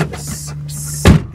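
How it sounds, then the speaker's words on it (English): A car door with a child safety lock thumps shut once near the end, a single solid close after a brief rustle of handling, loud and near. "Now once again closing the door and trying to open."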